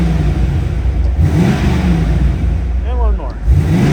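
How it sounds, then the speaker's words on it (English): A 1994 Chevrolet Corvette convertible's LT1 V8 engine revs up close, rising and falling in a couple of throaty bursts over a steady rumbling idle. "And let's give it a couple revs."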